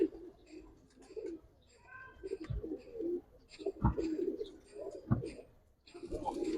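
Giribaj pigeons coo softly and repeatedly at close range in a loft, with low throaty calls overlapping in an uneven rhythm and occasional wing or foot scuffs.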